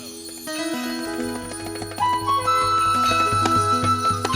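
Bells and jingling ring out over a loud festive band during a Hindu religious celebration, with sustained tones and rhythmic percussion building and continuing without pause.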